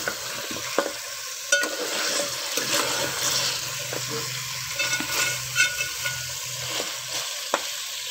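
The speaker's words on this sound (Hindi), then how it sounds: "मज़ीद इसको मैं 5 मिनट और भून लूँगी" Beef trotters frying and being stirred in a pot, a steady sizzle with scraping stirs and occasional sharp clinks of a utensil against the metal, close and continuous with no talking.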